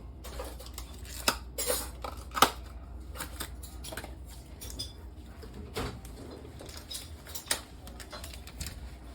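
Spoons clink and scrape against plates while mini tacos get topped with pico de gallo, guacamole and sour cream, a scatter of light irregular taps and knocks at close range with no talking.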